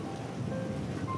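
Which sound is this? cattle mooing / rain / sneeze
rain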